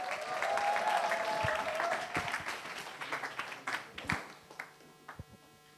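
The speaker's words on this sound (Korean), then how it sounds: "프레젠트는 박수로 청해 듣겠습니다" An audience at a high school academic festival claps steadily, a full wave of applause that thins out into a few scattered claps before fading.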